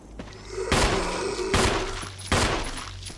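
Pistol gunshots in the video game Resident Evil: three loud, sharp reports spaced about a second apart, each with a short ringing decay over a low game backdrop.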